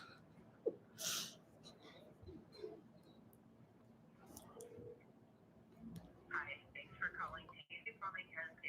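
A phone call rings out over a speakerphone, a thin electronic tone that comes and goes faintly beneath a continuous stretch of talking in the room.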